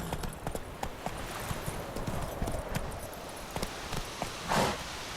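Horse hooves clip-clop at a steady walking rhythm while riding in The Witcher 3 video game, a continuous run of close, distinct hoofbeats with a brief louder swell near the end.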